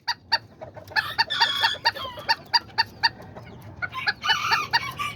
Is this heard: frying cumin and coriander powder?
no